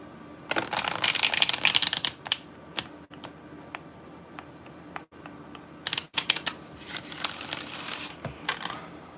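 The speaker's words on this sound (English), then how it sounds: "When I cut the deck, I see the Seven of Pentacles and the Knight of Cups." Tarot cards being shuffled and cut by hand, quick papery riffles and flicks in clustered bursts with short pauses, close and fairly quiet.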